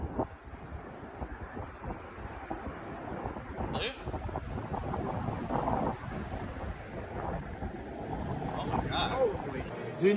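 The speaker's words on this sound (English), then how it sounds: "This guy wanted to show how windy it was in New Zealand." Strong wind in New Zealand buffets the microphone in a constant roaring rumble, with gusts swelling and faint voices partly buried beneath.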